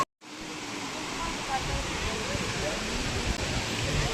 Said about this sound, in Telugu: ఇక్కడ వాటర్ అనేవి అక్కడ పైనుంచి వస్తాయి, కొండపై నుంచి, కాబట్టి దీన్ని ఆకాశగంగ అంటారు